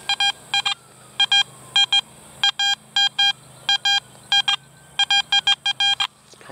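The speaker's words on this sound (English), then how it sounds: "we had a very, very deep signal, and I want to show you it now because it's giving me a double beep." Electronic double beeps from a metal detector on a deep signal, likely a coin, in an old Florida farm field, sounding in quick pairs over and over at close range against a low steady hum.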